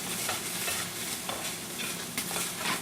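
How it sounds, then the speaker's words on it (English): Chopped onions sizzle steadily in a pan for a vegan cashew penne casserole sauce. A spoon scrapes and stirs through them in short irregular strokes, close and clear, with no talking. "I love the smell of cooking onions."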